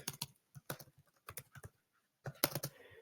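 Typing on a computer keyboard, irregular clusters of crisp close keystrokes with short pauses between bursts, a final quick flurry near the end, no voices.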